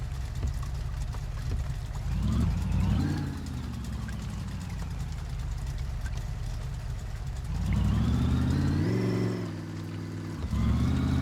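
An automatic truck's engine drives along, rising and falling as it revs through shifts in two distinct surges, a close steady motor drone with no voices.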